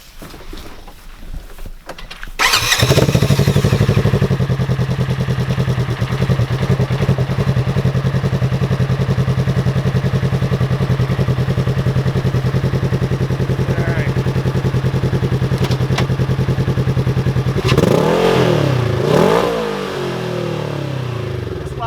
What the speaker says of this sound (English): we're going to go ahead and start it up. I'll rev it a couple times so you guys can hear it